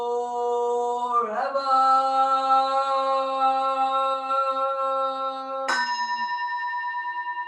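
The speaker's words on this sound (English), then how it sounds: "Here is the after sound of the bell." A resonant bell tone rings and slowly decays, then a second strike at around six seconds brings a fresh ring that lingers.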